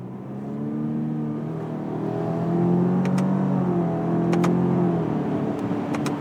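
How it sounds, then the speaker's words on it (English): A 2019 Subaru Ascent SUV with a CVT accelerates while simulating downshifts, its engine drone rising and stepping in pitch through fake gear changes, heard steadily from inside the cabin with no talking. "Like when it downshifts, let's downshift a couple gears or fake gears."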